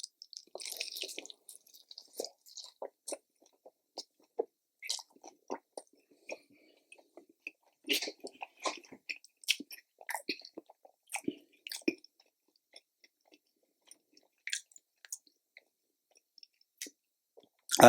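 Someone bites and chews a crispy honey bourbon fried chicken drumstick, with close, loud crunches and wet squishing in irregular bursts and no talking.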